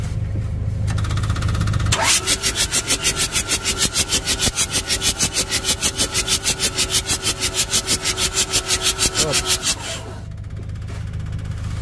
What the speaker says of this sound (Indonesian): yuk kita tes lagi starter yuk